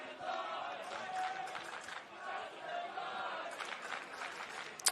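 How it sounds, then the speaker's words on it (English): Crowd at a men's final gridiron football game between Northern All Stars and Gridiron Queensland, a distant, steady roar of cheering and shouting with scattered claps. "And the crowd getting involved now too."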